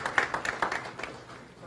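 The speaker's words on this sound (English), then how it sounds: "Give yourselves a round of applause this morning." An audience at a live morning event in Tobago applauds in a short, fairly close burst of scattered clapping that fades after about a second.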